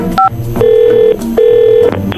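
A phone is dialed, giving a couple of short beeps followed by two longer steady electronic tones with brief gaps between them, loud and close.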